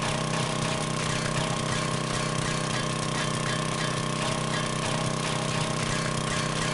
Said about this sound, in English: I'm gonna break the auger doing this.